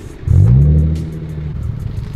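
A car on a mountain road in Azusa sweeps past close by with a loud swelling engine roar that peaks quickly and then fades into a lower rumble.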